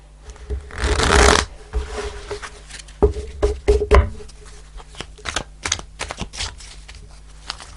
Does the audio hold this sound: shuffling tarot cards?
yes